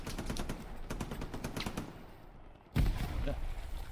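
A grenade explosion in the video game Hell Let Loose, a single sharp, heavy blast cutting in after a stretch of rapid rifle and machine-gun fire, with voices talking over the faint battlefield din.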